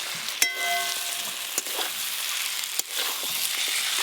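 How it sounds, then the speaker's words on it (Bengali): Fried shankar fish (stingray) pieces stirred into a spice paste in a pan: continuous close sizzling broken by three sharp spatula knocks and scrapes, with no talking. "মশলার সঙ্গে মাছগুলো একটু ভালো করে কষিয়ে নেব"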